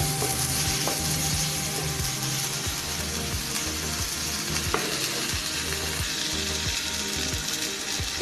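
Peas fry with spices in a hot pan for a Punjabi paneer bhurji, giving a steady, close sizzle with occasional scraping stirs.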